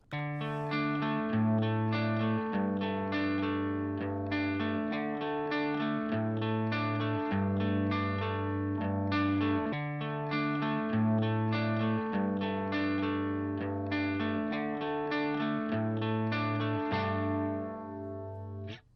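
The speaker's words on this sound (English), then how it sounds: "we have sort of like the main like guitar chord progression or like note progression, whatever you would call it, that sort of defines the loop" Looping guitar chord progression from a hyperpop beat, with bright plucked notes shifting through a repeating sequence over sustained low tones, steady and continuous without any voice.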